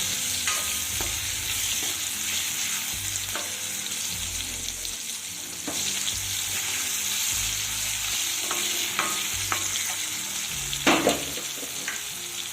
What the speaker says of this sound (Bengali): এবার টমেটোটাকে এই ফোড়নের সাথে একটু ভেজে নেব